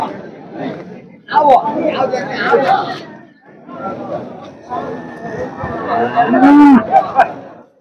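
A Holstein Friesian cow moos loudly nearby at the Chintamani cattle market in Karnataka, with long drawn-out calls mixed among people chatting close by.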